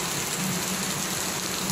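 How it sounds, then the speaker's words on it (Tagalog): Heavy rain pouring outside a hotel, a loud, steady broadband hiss with no pauses, close and continuous, with no talking. "sobrang lakas ng ulan"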